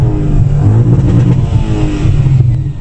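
An Audi S5 8T engine revs hard, a loud, close, continuous roar that swells and holds throughout, with no talk over it.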